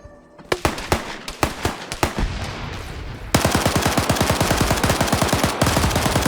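Automatic AK rifle gunfire in a competitive first-person shooter match, first a few separate shots and bursts, then a loud, sustained rapid stream of shots up close, with no talking.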